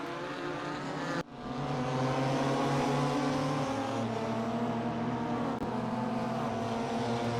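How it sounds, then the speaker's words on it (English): BMW race cars lap the Hungaroring in a sim racing game, a loud sustained engine drone with steady harmonics that shifts pitch as the cars accelerate, close and continuous without talk. "Barker in the yellow BMW, Gonzalez in the white BMW."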